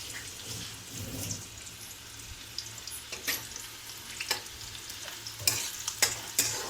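Onions frying in hot oil for a Telugu raw banana fry, a steady close sizzle with scattered crackles and a few sharper pops and stirring clinks toward the end, with no voices.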